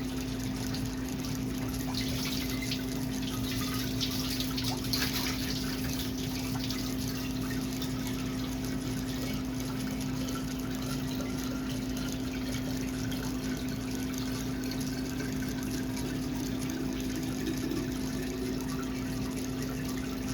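Tap water runs steadily while phytoplankton culture containers are rinsed clean of dust before filling. The flow is continuous and unbroken, with a constant low hum underneath and no talking.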